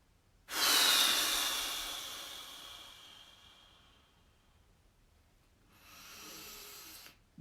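A long, deep breath during a meditation exercise, loud and close at first and slowly fading over a few seconds, followed after a pause by a softer second breath.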